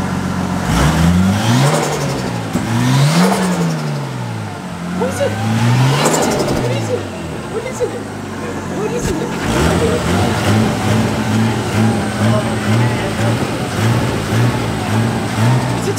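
A Nissan 350Z engine runs on six cylinders after a coil pack is replaced, idling and revving in rising and falling swells close by, with someone talking over it.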